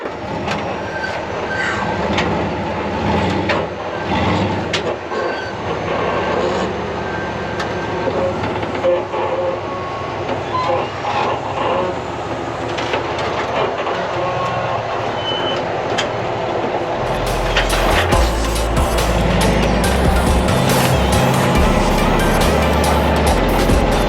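An off-road buggy in front-only drive claws up and out of a sand crack at Sand Hollow, Utah, with its engine droning loud and continuous and rising to a heavier, harsher roar near the end.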